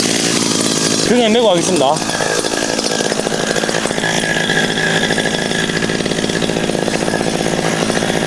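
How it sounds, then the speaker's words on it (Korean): A Maruyama 43cc engine brush cutter with a one-piece shaft idles loudly and steadily after a pull start. There is a brief revving surge near the start, and a person speaks over the engine drone. "요 모델의 경우 좀 전에 3600 RS 모델처럼 등에 맨 상태에서 시동을 당길 수는 없기 때문에 시동을 먼저 걸고"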